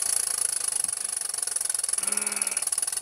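A six-cylinder V marine steam engine runs at speed with a loud, rapid, perfectly even chugging beat and a steady high hiss. A brief lower tone rises midway.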